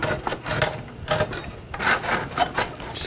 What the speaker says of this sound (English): I'm gonna take the new converter, slide it in, same way the old one came out.